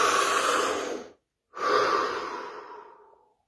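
A single deep breath, drawn in and then slowly let out, close and clear against silence, with a short pause between the inhale and the long, fading exhale.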